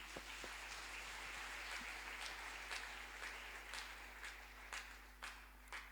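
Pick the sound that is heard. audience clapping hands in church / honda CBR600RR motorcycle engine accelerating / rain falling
audience clapping hands in church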